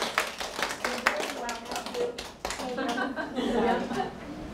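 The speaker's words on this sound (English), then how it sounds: "Can we give a big hand round of applause to Genie and Florida?" Guests clap at an aloha luncheon, a scattered round of applause with some sharp close claps while people talk and chuckle over it.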